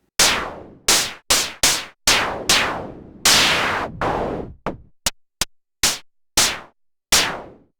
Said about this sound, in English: And F is white noise only.